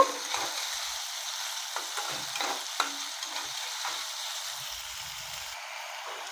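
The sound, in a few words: tomato being sautéed (kosha) with vegetables in a pan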